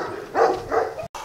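Guard dogs bark from behind yard fences along a residential street, giving two loud, close barks about half a second apart with outdoor ambience between them.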